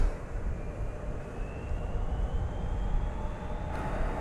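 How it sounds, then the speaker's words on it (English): An Airbus A321 jet revving up on the ground at DFW Airport at night, a distant steady roar with a faint rising whine and fluctuating rumble. "American Flight 2390 is revving up to go to Las Vegas. It's an Airbus A321."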